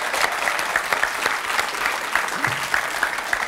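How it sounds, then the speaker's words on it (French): Studio audience applause for a young trapeze performer on a TV show, a sustained, even round of clapping from many people, fairly loud throughout. "On l'applaudit encore une fois pour l'encourager."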